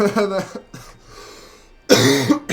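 A few harsh coughs, one burst at the start and a louder one later, with a quiet pause between them.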